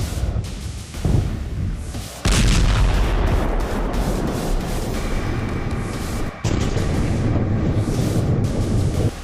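Heavy booming blasts roll in, loud and sustained, one surge after another like distant artillery and explosions rumbling together, from the Syrian civil war.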